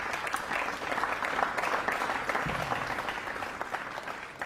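Crowd at a World Cup of Pool match between Germany and Holland applauds a pool shot, steady loud clapping filling the whole moment with no talk.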